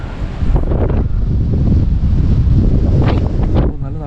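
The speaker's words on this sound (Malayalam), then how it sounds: "നല്ല തണുത്ത കാറ്റ് കേട്ടോ." Cool wind batters the microphone on a rocky hilltop at Thoranamalai, Tenkasi, in loud rumbling gusts that rise and fall over a few seconds, with faint voices partly buried beneath.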